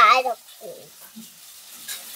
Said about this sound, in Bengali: চলো মাছ ভাজা হয়ে গেছে